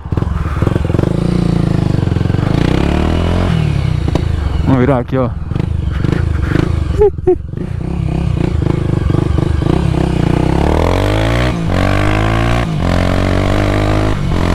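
A motorcycle nicknamed Tutu rides on a road, its engine revving loud and close through gear changes and climbing pitch sweeps, with a rider speaking briefly over the roar.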